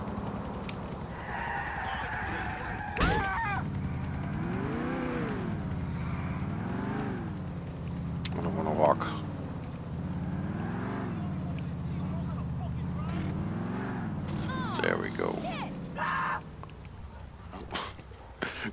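A car in GTA IV is driven through a busy street, its steady engine drone running throughout under wavering horn-like honks and passing traffic noise, loud and continuous with a few sharp impacts.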